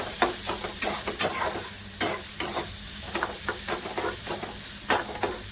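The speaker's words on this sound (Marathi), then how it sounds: "गॅस आहे ना मी स्लो केला होता थोडासा वाढवून घेते कांदा भाजण्यासाठी" Onion fries in a pan of oil with cumin and mustard seeds, a steady sizzle broken by repeated sharp scraping stirs close by, with no talking.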